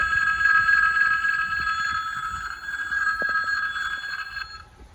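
Level crossing warning bell ringing steadily and fairly loud as a snow-clearing train approaches, a continuous bright electronic ringing that holds for about four seconds before cutting off, with low rumble and a few knocks beneath.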